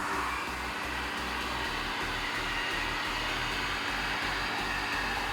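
A hot air gun blows continuously at a sound dampening foam panel to shape it, giving a steady, loud airflow roar with a low motor hum that persists throughout without pause.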